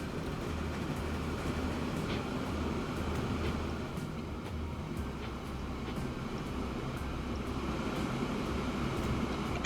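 Train running in the railway-building video game Transport Fever 2, a steady rumbling roll with rhythmic clacks, continuous and moderately loud for the whole stretch.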